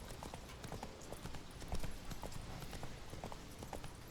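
Geralt's horse Roach in The Witcher 3, trotting through the Skellige wildlands with steady, close hoof clip-clops that repeat throughout over a low ambient game background.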